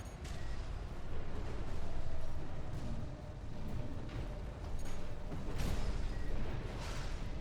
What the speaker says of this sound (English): Use your mobility in the air to get clear of explosions on the ground